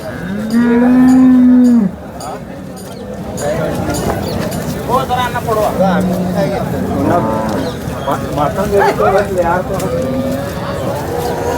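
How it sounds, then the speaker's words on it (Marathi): Cattle at the Sangola cow market moo loudly and close by, one long low call at the start followed by more calls amid constant crowd chatter, people talking over the lowing throughout. "गाय बघू शकताय चांगल्या गाय त्या मोठ्या मापाच्या"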